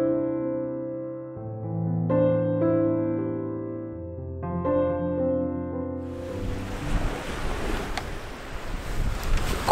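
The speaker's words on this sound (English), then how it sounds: "Oh, this wind today is absolutely bitter." Bitter, icy cold northerly wind roars across an outdoor landscape photography spot, loud broadband gusting noise buffeting the microphone after several seconds of sustained musical tones and continuing to the end.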